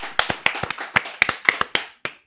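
A congregation claps in praise to God, a quick burst of loose, uneven hand claps that thins out and ends with a final clap, fairly faint and without talk.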